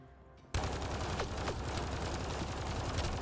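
A pistol in Mass Effect Andromeda bursts in after a quiet start, with rapid loud gunfire over a dense combat din and a couple of whistling sweeps, no talking.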